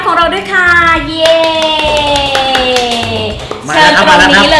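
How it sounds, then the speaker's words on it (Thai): A small group in a Thai curry restaurant claps to welcome the owner, a lively patter of hands heard under loud, bright music with cheering and talk over it. "ขอเสียงปรบมือต้อนรับเจ้าของร้านของเราด้วยค่ะ"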